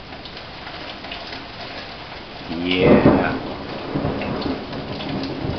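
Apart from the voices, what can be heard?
heavy rain pouring during an electrical storm with thunder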